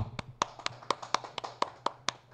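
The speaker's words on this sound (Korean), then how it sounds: "박수" A class applauds with a small run of sharp, evenly spaced hand claps, close by and fairly crisp, with no talking over them.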